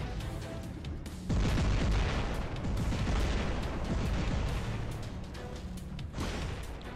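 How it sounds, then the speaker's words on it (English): Robot weapons firing during a War Robots test-server match featuring the Nemesis robot, a heavy continuous barrage of booming, crackling blasts that jumps in loudness early on and rumbles steadily with no talk. "Weapon is firing and dealing absolutely no damage"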